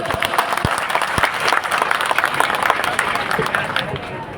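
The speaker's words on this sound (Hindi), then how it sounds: "जोरदार तालियां बजा के इनके एक बार स्वागत है।" A crowd at a political speech in a village gathering bursts into loud, continuous applause, with dense clapping holding steady throughout and a few sharper claps near the start.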